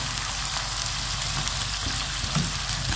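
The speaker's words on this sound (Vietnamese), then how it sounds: "mình sẽ cho cái phần là mỡ cá vào nhé" Fish fat frying in a pan over low heat, a dense continuous crackling sizzle, close and even, with no talking.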